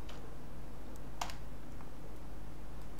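Code being typed on a computer keyboard, with steady close key clicks and one louder keystroke near the middle, and no voices over it.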